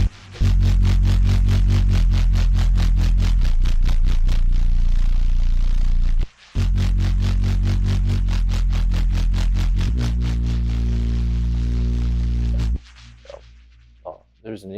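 Angry Dog bass preset on an Arturia Pigments 4 software synth, a loud, punchy, rapidly pulsing bass line with a heavy sub, running continuously with one brief gap, then cutting to quieter sparse tones near the end.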